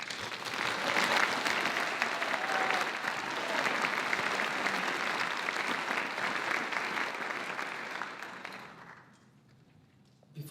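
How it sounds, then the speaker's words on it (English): Sustained audience applause at a global health conference, a dense wash of many hands clapping at steady loudness for about nine seconds before tapering off into quiet room tone. "that deserves our respect and a big round of applause"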